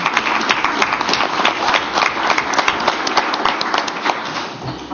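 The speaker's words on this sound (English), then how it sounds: "So that in itself garners applause." An audience at a tribal council meeting breaks into applause, a sustained patter of many hands clapping at moderate loudness, steady and unbroken with no talking over it.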